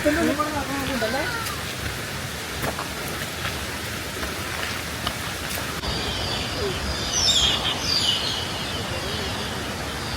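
Steady, heavy rain falls in Palakkad, Kerala, a dense continuous hiss with drops pattering on surfaces and a brief voice early on.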